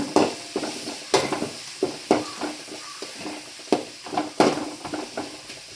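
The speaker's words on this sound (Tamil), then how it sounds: "சதைச்ச பூண்டு அப்படியே சேர்த்து ப்ரௌன் கலர் ஆகிறது அதாவது பூண்டுக்கு பச்சை வாசனையில் மாறுறது நல்லா வதக்கி விடுறேன்" Crushed garlic sautéing with fenugreek in a pan for a fish head kulambu, with a utensil scraping and stirring in quick, uneven strokes over a soft, steady sizzle, close up.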